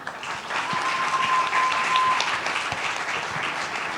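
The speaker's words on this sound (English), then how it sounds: "Guys, that deserves a round of applause." An audience at a G20 Young Entrepreneurs Alliance summit panel gives a sustained round of applause, a dense even wash of clapping that lasts several seconds.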